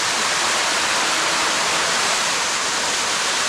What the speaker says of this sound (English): Sticky Waterfall.